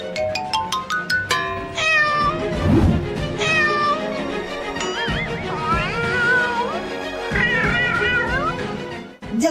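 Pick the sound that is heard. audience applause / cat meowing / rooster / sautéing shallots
cat meowing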